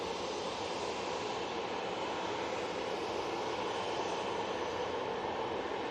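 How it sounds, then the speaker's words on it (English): An EasyJet A380 airliner rolls onto active runway 23 left at Manchester Airport before departing for Malaga. Its engines make a steady, distant broadband roar that holds level throughout, with no voices. "we've got the EasyJet A380 making its way on to the active runway"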